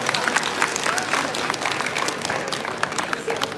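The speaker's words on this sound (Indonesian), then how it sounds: "Tepuk tangan untuk kita semua." Steady, dense applause from a crowd at a student welcome and inauguration event, sustained clapping throughout with no pauses.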